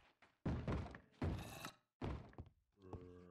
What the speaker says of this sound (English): They're breaking more of my doors.